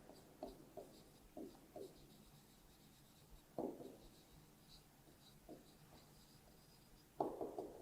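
A number is written by hand, with soft scratchy pen or chalk strokes in short clusters separated by pauses, faint and close.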